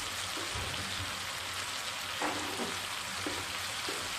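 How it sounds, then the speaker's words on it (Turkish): Water from a glass poured into a pan of simmering olive-oil pea dish, setting off a steady, close sizzle and bubbling with soft splashy bursts throughout, no voices. "Şimdi e, bir su bardağı suyumuzu ekleyelim."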